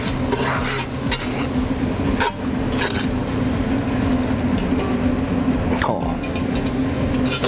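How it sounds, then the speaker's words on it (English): Flour-coated steak fries in hot oil at about 360 degrees, giving a loud, steady, crackling sizzle throughout with occasional clinks and stirring scrapes from a pan or utensil. "360 degrees will be ideal for frying."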